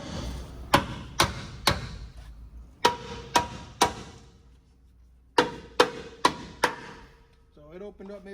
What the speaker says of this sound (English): just flare out the pockets a little bit, just with the hammer